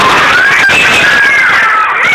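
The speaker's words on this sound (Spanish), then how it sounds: "Un grito de terror." Young children in a kindergarten class let out a loud, sustained scream of terror together, a shrill wavering chorus lasting about two seconds.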